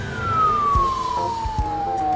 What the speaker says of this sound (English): That is the cutest fire engine I've ever seen.